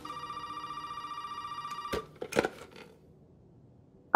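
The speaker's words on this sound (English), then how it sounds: "There's a phone call ringing" A telephone rings in the horror game Resident Evil 7, a steady repeating electronic trill for about two seconds, followed by a few short clunks and handling noises, then near silence.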